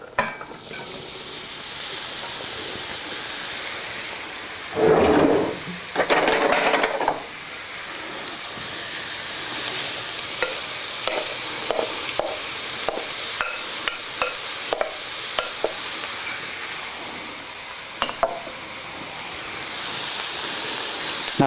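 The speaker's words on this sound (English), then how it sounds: "And that should be plenty to saute these vegetables before we add them to the sauce." Vegetables sauté in olive oil with a continuous sizzle, broken by bursts of louder crackling and repeated spatula scrapes and taps against the pan as they are stirred.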